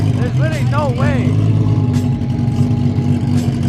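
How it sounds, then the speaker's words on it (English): A car at a car meet revs loudly through an aftermarket exhaust, with a sharp burst of rising and falling revs early on, then a steady rumbling idle with crowd noise around it. "Look at this exhaust, bro."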